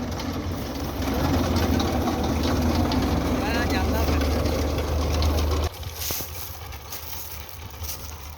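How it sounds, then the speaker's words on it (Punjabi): A Belarus tractor engine runs with its PTO engaged in a potato field, giving a steady, loud mid-pitched mechanical hum with a low throb, with speech over it, and then a sudden drop to a lighter, quieter idle. "ਰੂਸੀ ਹੋ ਗਿਆ ਹੈ ਸਟਾਰਟ ਤੇ ਪੀਟੀਓ ਉਸ ਦਾ ਚੱਲ ਪਿਆ, ਪੀਟੀਓ ਗੇਅਰ ਲੱਗ ਗਿਆ ਹੈ।"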